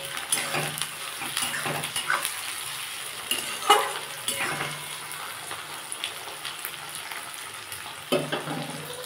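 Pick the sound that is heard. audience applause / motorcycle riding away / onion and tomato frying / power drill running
onion and tomato frying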